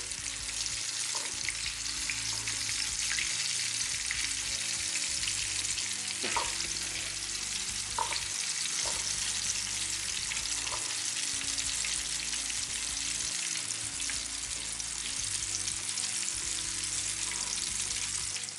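A floured Red Roman fish fillet fries in a pan with a loud, continuous sizzle and crackle, with a few sharper pops and spits rising through the steady hiss.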